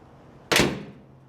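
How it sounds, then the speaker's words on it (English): A single solid thunk as the door of a 1947 Dodge truck is shut, one sharp close impact that rings out briefly against an otherwise quiet background. "The door, listen to the door."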